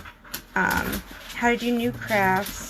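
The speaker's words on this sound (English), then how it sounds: "sorry for the background noise. The puppies are wanting to play." Puppies whine and whimper in high, wavering cries under a person speaking nearby.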